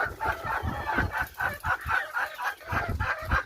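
Native chickens on a farm cluck in a quick, uneven series of close, fairly loud calls near a manure pile, with no talking.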